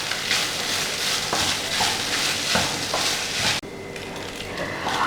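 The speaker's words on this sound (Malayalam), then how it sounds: "ഇനി നന്നായിട്ടൊന്ന് മിക്സ് ചെയ്ത് കൊടുക്കുക" Vermicelli upma being stirred in a pan makes a steady broadband scraping and sizzling texture with repeated stirring strokes. The sound drops sharply and quiets near the end, with no voice present.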